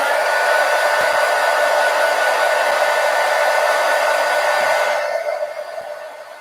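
A hair dryer blows steadily on wet paint on an art scroll, a loud continuous whoosh that holds for several seconds before switching off and winding down.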